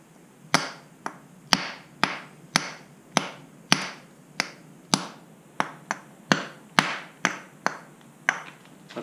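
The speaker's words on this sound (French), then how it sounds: "je vais essayer de le casser avec le marteau pas adapté pour que ça puisse bien rentrer comme il faut" A hammer that is not made for the job strikes a stone again and again, breaking it down to fit under a beam during masonry work. About sixteen sharp, ringing, evenly paced blows land close by, with no talking.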